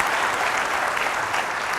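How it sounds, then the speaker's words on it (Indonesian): Studio audience applauding loudly and steadily, a dense wash of clapping on a televised talk show, with no pauses throughout. "Perlu dikasih tepuk tangan kalau begitu."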